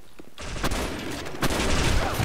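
Gunfire in the Blackshot video game during a competitive match: a loud burst of shots, a short pause, then a second dense burst of rapid fire, with no speech.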